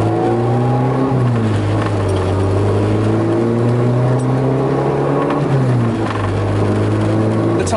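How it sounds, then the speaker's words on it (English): A Honda Civic with a B18C engine and K-Tuned exhaust rumbles deeply while driving out of a canyon, rising and falling in pitch as it shifts and accelerates, loud and continuous. "you can hear the exhaust as we drive through, driving out of the canyon"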